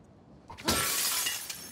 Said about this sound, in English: How do I break this glass?